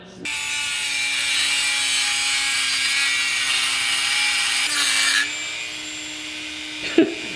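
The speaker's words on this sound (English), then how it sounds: "There's a little bit of spare metal in the way. A little bit of slag. So we're gonna shred that down." An angle grinder runs continuously for about five seconds, grinding metal slag off a car engine during a Coyote 5.0 swap into a JDM car, loud and close, then winds down, followed by a brief clunk.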